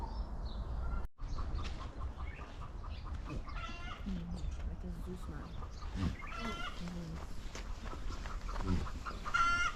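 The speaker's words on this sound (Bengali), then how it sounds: "এখানে একদিকে ছাগল একদিকে মুরগি" Chickens cluck and goats bleat on a farm at the Al Ula oasis in Saudi Arabia, the animal calls scattered and moderately near under a person talking.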